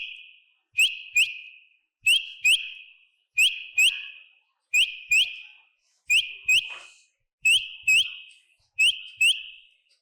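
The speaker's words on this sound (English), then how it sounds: "they try to communicate with each other with the help of whistling notes" A quail gives repeated paired whistling notes, sharp, clear calls that recur in a steady rhythm about every one and a half seconds against near silence.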